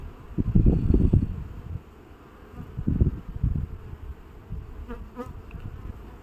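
Honeybees buzzing close up at an open hive in a dense, wavering drone, with bursts of louder low hum as individual bees pass near.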